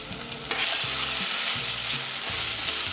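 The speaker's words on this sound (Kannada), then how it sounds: "ತರಕಾರಿ ಸ್ವಲ್ಪ ಫ್ರೈ ಆಗಿದೆ." Chopped vegetables and a large tomato fry in a pot for a one-pot meal, giving a loud, continuous sizzle with a few rhythmic stirring scrapes, close up and with nobody talking.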